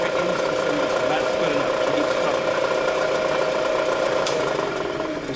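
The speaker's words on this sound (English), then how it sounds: "Penetrates completely through one side of the cylinder." Milling machine drilling a side port through a cylinder in a fixture, giving a steady loud motor hum and grinding drone that holds throughout with faint vibration.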